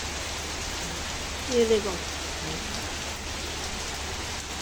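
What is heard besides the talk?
rain shower with strong winds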